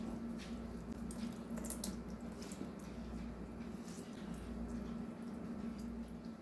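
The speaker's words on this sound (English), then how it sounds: "Then you're going to squeeze the water out of the tuna, just like this." Water is squeezed out of canned tuna, giving faint wet squishing and dripping against a low background hum.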